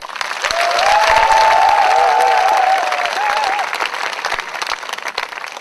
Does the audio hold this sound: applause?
yes